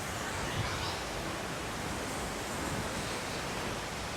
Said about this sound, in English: we've made it to the waterfall